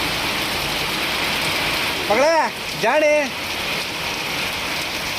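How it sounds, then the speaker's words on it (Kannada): Rain falls steadily as a continuous hiss of drops on surfaces, with two short spoken phrases heard over it midway. "ಮಳೆ ಶುರುವಾಯಿತು"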